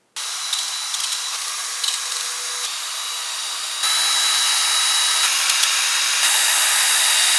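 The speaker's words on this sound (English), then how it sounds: "I'm going to start a small pilot hole with this 1/8 bit here" A power drill with a 1/8-inch bit whirs steadily while boring a pilot hole into pallet wood, its motor pitch rising partway through and holding at a constant high whine.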